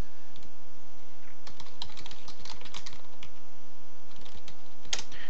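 Keys clatter on a computer keyboard as spreadsheet data is entered, quick irregular bursts of close, crisp clicks over a faint steady electrical hum.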